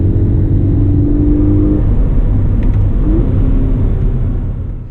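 An automatic 2016 Scion FR-S engine while driving, a loud steady rumbling drone heard from inside the car that fades out at the end.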